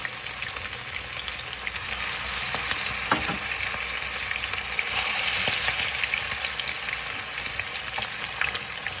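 Chicken pieces for chicken afritada packed into a hot kawali fry with a loud, dense, unbroken sizzle and a few brief scraping knocks, heard up close.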